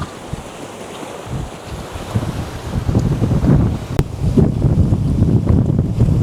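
Ocean waves break and roll in at a coastal viewpoint, building from a low wash to a loud, continuous surging roar, with heavy wind buffeting the microphone throughout.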